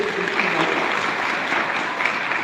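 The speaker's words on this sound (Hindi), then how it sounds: "उनके लिए जोरदार ताली बजाओ" An audience at a community gathering applauds children who performed a cultural dance, giving a continuous crowd clapping that fills the space at moderate loudness with no speech over it.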